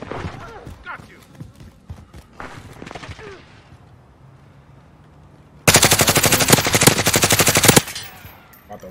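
A loud, close burst of rapid automatic fire from a GRAU 5.56 rifle in Modern Warfare lasts about two seconds, preceded by scattered distant shots and brief talking.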